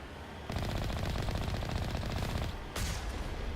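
Heavy turret in Mass Effect firing a sustained rapid burst of loud automatic shots, a steady hammering stream that breaks off briefly near the end and then resumes.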